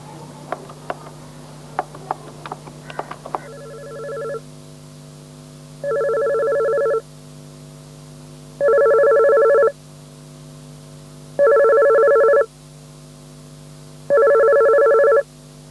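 A telephone rings in four to five evenly spaced electronic bursts, each about a second long, close and clear, preceded by a few quick clicks and taps.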